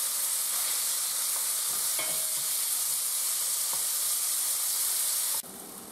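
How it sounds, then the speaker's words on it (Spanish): Chicken strips fry in a pan over medium-high heat, giving a loud, steady sizzle and hiss with occasional faint taps of stirring, close up and without voices, before the sizzle drops abruptly near the end. "Añadimos las tiras en la sartén y vamos a hacerlas a fuego medio alto hasta que estén bien hechas y un poquito doradas"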